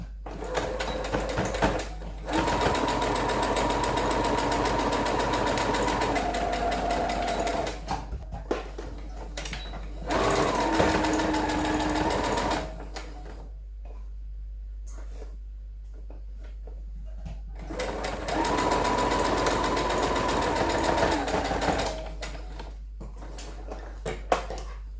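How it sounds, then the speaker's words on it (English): Sewing machine stitching a shirt sleeve in bursts of rapid, even whirring, several runs of a few seconds separated by quiet pauses, close and clear. "let's go to the sewing machine now so that we can sew our shirt sleeve"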